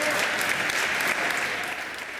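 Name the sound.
National Assembly applauding adopted motion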